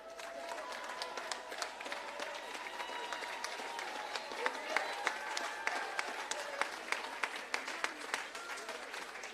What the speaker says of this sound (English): Give them another special round of applause, please.